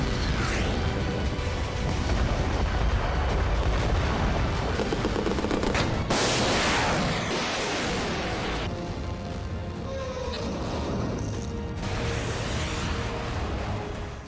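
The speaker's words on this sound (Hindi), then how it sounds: "सऊदी अरब की गठबंधन सेना ने यमन की राजधानी सना में आसमानी अटैक" Explosions from Saudi coalition air strikes on Sanaa, Yemen: loud, dense bursts of blasts and crackling detonations pile on top of each other, with a few sharper impacts standing out.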